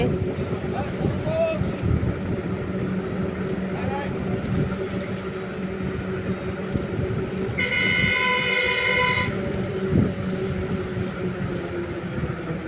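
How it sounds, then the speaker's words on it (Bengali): A train rumbles steadily past, and a horn blares for a couple of seconds midway through the passing. "এখানে একটা ট্রেন লাইন আছে ট্রেন পেরিয়ে যাচ্ছে"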